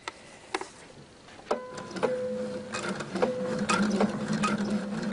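A home sewing machine stitches a shopping net in short bursts of rapid mechanical whirring and clicking, starting and stopping with a few separate clacks between runs, close and fairly quiet, with no talking.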